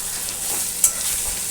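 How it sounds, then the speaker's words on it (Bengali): Soya chunks sizzle in mustard oil over a low flame, a constant close frying hiss with one brief stirring scrape. "এই দেখুন আমি সয়াবিনগুলো দিয়ে দিয়েছি আর এবারে এটাকে ভালো করে ভেজে নেব"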